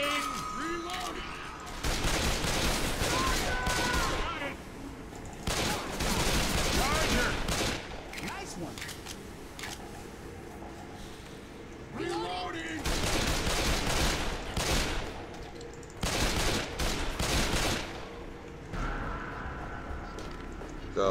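Bursts of gunfire in Left 4 Dead with a Resident Evil 2 mod, loud clattering volleys in several separate bursts with quieter gaps between them and voices speaking in the background.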